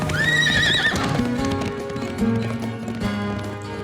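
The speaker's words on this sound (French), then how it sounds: "J'entends d'ici le bruit tonitruant des sabots." Horses gallop in a race, their hooves pounding loudly and continuously up close, with a sharp whinny near the start.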